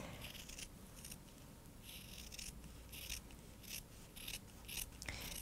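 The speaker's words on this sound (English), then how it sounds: "I'm just going to trim it all the way around." Sharp scissors snip repeatedly through a sewn fabric seam allowance, trimming all the way around a quilted table project in a steady run of close, crisp cuts with brief pauses.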